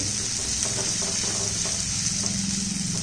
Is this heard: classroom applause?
no